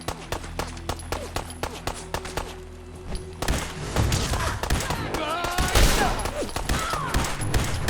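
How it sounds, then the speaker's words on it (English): A laser rifle in Fallout 4 fires a regular series of short zapping shots, followed by a dense, louder stretch of overlapping combat noise and impacts. "the laser rifle, when it's not powered up, I mean, when it's not charged up, sucks"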